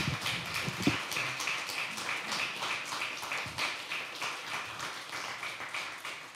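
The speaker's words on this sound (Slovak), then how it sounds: "poprosím potlesk pre pána Pauera." An audience at a lecture about a photographer applauds steadily, many hands clapping in an uneven patter that holds at moderate loudness for several seconds.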